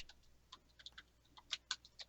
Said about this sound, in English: Who's typing and clickety-clacketing in the background?